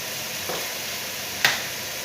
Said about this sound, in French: mes tomates, les carottes. Je vais laisser rôtir un peu tout ça.